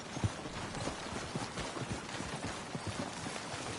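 A horse gallops in the Western video game Red Dead Redemption 2, its hoofbeats faint and muffled under a steady wash of ambient game noise with no talking.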